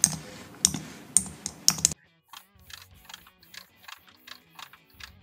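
Plasticky buttons on a 2023 MG4 electric car dashboard click like a mechanical keyboard, a quick series of sharp, close taps with short gaps, soft and dry in a quiet cabin.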